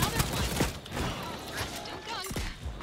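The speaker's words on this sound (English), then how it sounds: "I'm just popping off the grenade launcher" Grenade launcher fire and explosions in the Second Extinction video game, with dinosaur enemies, heard as a fast, dense run of sharp blasts and thuds close by, mixed with chaotic game noise.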